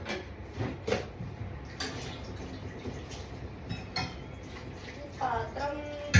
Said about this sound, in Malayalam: ഞാൻ പാൻ വെച്ചിട്ടുണ്ട്.